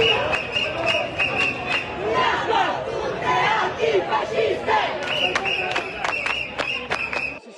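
A large crowd shouts and chants during street clashes with riot police on a boulevard in Trieste, a loud, continuous roar of voices with sharp whistles and cries throughout.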